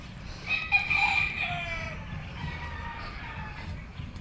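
A rooster crows loudly nearby, one drawn-out call over a low background rumble, fading into faint clucking.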